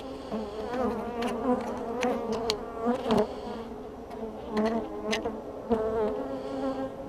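Honey bees buzz continuously around a hive, a dense droning hum with individual bees passing close, no voices.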